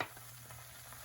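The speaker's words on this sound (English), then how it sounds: "going to fry the egg" Beaten egg mixed with soy sauce fries in an oiled pan, a soft, steady close sizzle with faint crackle, alone and without talk, a short burst.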